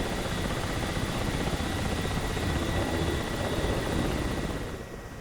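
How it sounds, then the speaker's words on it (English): Jets fly overhead in the DCS World flight simulator, a steady broadband roar that holds for several seconds and then fades slightly at the end. "There's definitely some jets whizzing overhead too"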